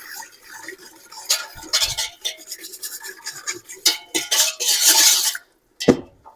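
A spoon scrapes and knocks around a pot with a warped bottom while broccoli cheddar soup is stirred, giving irregular clattering strokes and rattles in bursts, close and fairly loud, with a brief pause near the end.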